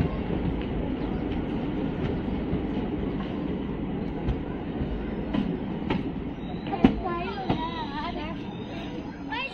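A train rolls through Palam railway station with rumbling wheels, clattering and a brief squeal near the end, loud and close under people talking.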